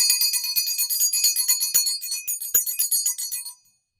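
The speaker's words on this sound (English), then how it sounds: "Let's take my mom's bell to clear the energy, my energy and space here" A handheld bell, once owned by a mother, rings repeatedly in a space-clearing ritual, bright tinkling strikes overlapping in a steady shimmering stream for a few seconds, then cutting off to silence.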